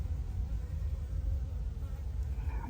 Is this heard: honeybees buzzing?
yes